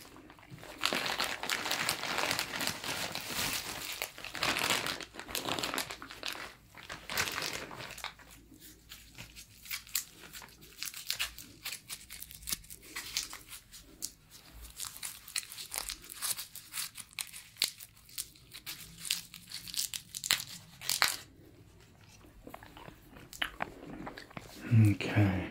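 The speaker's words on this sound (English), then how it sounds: "Let's try a couple of these pieces of bubble gum here" Bubble gum from packs of football trading cards being unwrapped and chewed up close, with crinkling wrapper sounds, bites and crunchy chewing, mixed with soft-spoken talk.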